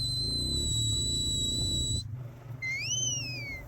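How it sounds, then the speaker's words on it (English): A handler blows a stop whistle to a working stock dog in Australia: two steady, piercing held tones, a brief gap, then a sharper rising-and-falling whistle, all over a faint low outdoor rumble. "a couple of stop whistles tell him he's incorrect"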